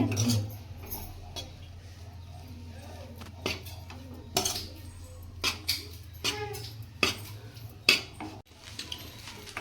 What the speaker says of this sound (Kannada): ಇದು ಚೆನ್ನಾಗಿ ಬಿಸಿ ಆಗೋ ತನಕ ನೀವು ಪೂರ್ತಿಯಾಗಿ ಕಲಸ್ರಿ